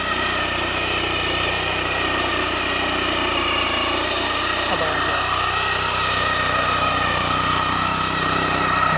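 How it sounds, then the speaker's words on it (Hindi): A Bulund Kisan Bahubali power tiller with a back rotary weeder engine runs steadily in a field, cutting through tall dry grass and wood, its continuous loud drone close by and unbroken throughout. "ये है बुलंद किसान बाहुबली, पूरे पक्के खेत में इतने इतने बड़े घास में सूखी लकड़ी को काटता हुआ जा रहा है।"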